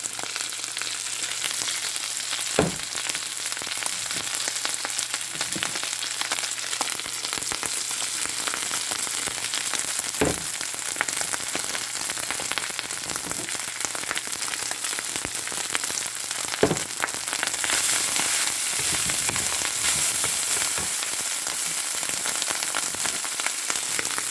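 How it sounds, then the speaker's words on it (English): Rice fries with garlic in a hot pan, a loud, dense sizzle that runs unbroken and up close, with occasional sharp pops and stirring scrapes and a brief swell in intensity near the end; no voices. "So I'm going to add my rice."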